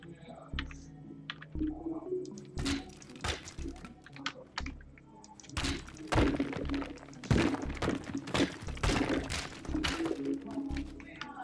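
Teardown video game sounds of an object breaking and crashing to the floor, with repeated thunks, clattering impacts and debris noise over several seconds, mixed with a voice talking.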